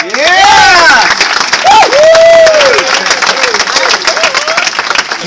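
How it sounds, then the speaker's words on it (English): A party crowd at a Christmas hypnotist show applauds and lets out rising whoops and whistles, loud and close, with voices shouting over the clapping for about five seconds. "All this applause is for you."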